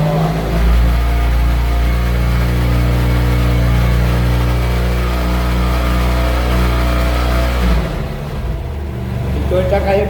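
A BMW F800GS motorcycle engine runs at raised revs with a loud, steady, even drone held close for most of the time, then drops off sharply near the end; a voice speaks over it.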